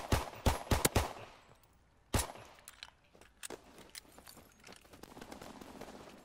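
A burst of rapid pistol shots cracks out in Call of Duty WW2, followed by a lone shot and then quieter scattered battlefield noise with a few distant pops.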